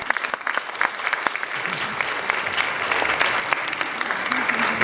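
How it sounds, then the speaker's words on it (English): Parents and audience at a youth jazz camp concert applaud in a sustained round of clapping at moderate loudness, with sharp individual claps standing out early and a faint murmur of voices underneath. "please give a round of applause to your parents right now"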